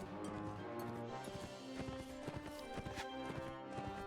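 Horse hooves clip-clop in the Mount and Blade Warband video game, a steady run of hoofbeats under a dense, continuous game soundscape with faint music.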